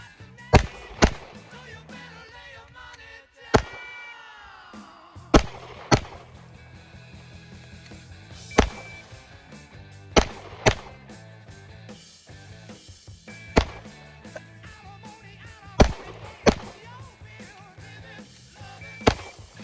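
Sharp, loud pistol shots crack in separated groups during a F.A.S.T. drill at a range, with pauses for a reload between strings; about a dozen distinct reports echo over a quiet background.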